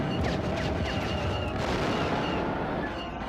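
Turret gunfire in the Star Wars: Battle for Naboo flight game, steady loud rapid blasts over a constant engine roar, with no break throughout.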